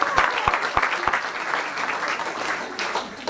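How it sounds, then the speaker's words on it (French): Church congregation applause for visiting parents at a French-language service, opening with several loud, close individual claps before settling into a busy, sustained round of clapping from the room. "Pour applaudir pour les parents de Brandon qui sont là."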